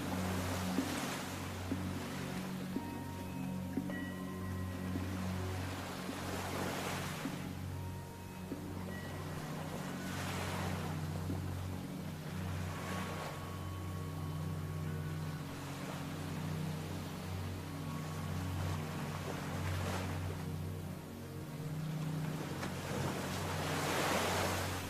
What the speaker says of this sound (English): concentrate on listening to the sounds of the waves